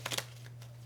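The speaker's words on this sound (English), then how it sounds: "Oh, these are so hard to shuffle." A brief burst of tarot cards being shuffled by hand, three quick riffles close to the mic, then a quiet steady hum.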